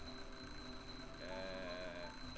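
Smoke detector alarm being tested in the point-and-click game The Journey Down, a steady high electronic tone ringing alone at low volume for a couple of seconds.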